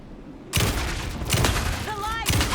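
Gunfire in the video game Alan Wake 2: loud, dense bursts of shots begin abruptly and roll on through the clip over a heavy, booming background.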